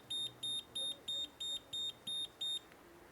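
A gas detector alarm goes off after a gas release, sounding eight evenly spaced high, piercing beeps in a fast regular rhythm, close and loud, then stopping into quiet.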